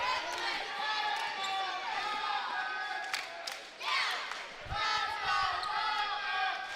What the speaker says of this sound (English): the Let's Go Dartmouth has chants have erupted here at the Carlin Lynch Activity Center